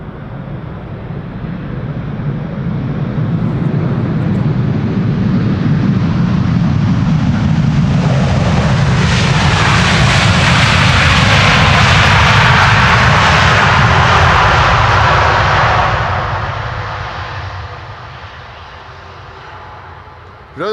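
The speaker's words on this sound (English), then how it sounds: "Delta Airlines Flight 90 arriving from Orlando, Florida." A Delta Air Lines airliner arriving from Orlando at Amsterdam Schiphol roars in with a loud, sustained jet engine rush that swells to a peak mid-way, then eases off as it passes and fades.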